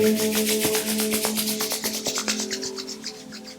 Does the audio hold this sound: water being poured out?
no